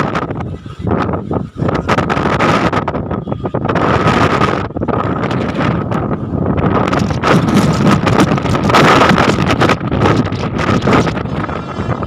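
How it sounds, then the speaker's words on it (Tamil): Strong wind roars across a hilltop temple after rain, in loud, broadband rushing gusts that hit the microphone almost without pause and drop out only briefly, with no talking. "காற்று பயங்கரமாக வீசு."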